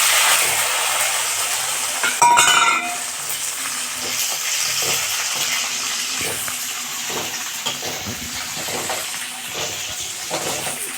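Green chillies sizzle and crackle steadily in hot oil in a pan while a lemon pickle is cooked, with scattered louder pops and faint stirring clatter throughout, no voices.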